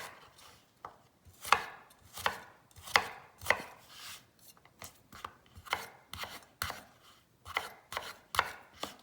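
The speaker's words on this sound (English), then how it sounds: "So we're just going to go 1/4-inch slices." A knife cutting unpeeled Yukon Gold potatoes into quarter-inch slices on a board, about a dozen crisp, close strokes coming in an uneven rhythm with short pauses between them.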